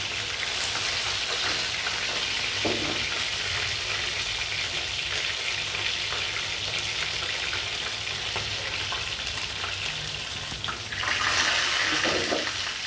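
Chicken fries in a pan at home, a steady close sizzle and crackle of hot oil running throughout with a few brief scraping stirs.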